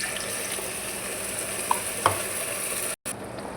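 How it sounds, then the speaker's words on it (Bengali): Onion and spice paste frying in a wok, a steady low hiss with a couple of faint clicks and a brief gap near the end, no voices. "এখানে আমি কড়াইতে একটু পেঁয়াজ ভেজে নিচ্ছি, এখানে এই পেস্টটা দিয়ে একটু কষিয়ে নিচ্ছি।"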